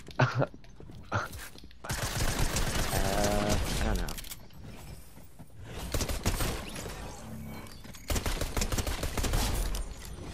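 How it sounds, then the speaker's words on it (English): Bursts of rapid gunfire in the Fortnite video game, with long runs of repeated shots at steady loudness, while players talk over the action. "They're shooting over here."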